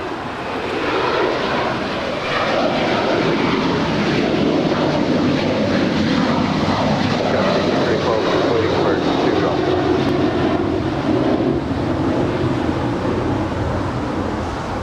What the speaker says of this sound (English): Next departure, Alaska Airlines Flight 49 heading to Newark in a